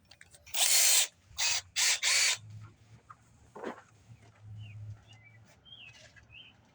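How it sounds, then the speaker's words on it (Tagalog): Power drill with a number 6 bit boring into a car's front hood, several loud bursts of high-pitched whirring in quick succession, followed by quieter handling noises and faint bird chirps in the background. "Can adjust the light of my drill."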